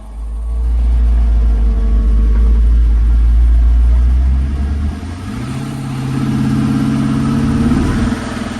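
A supercharged 1957 Chevrolet 3100 pickup rumbles with a deep, loud engine note close by. The pitch drops, then climbs again as it revs while pulling away, and no one talks.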